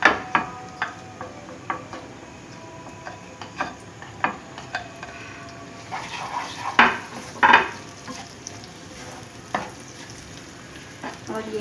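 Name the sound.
browned onion and spices frying for maash daal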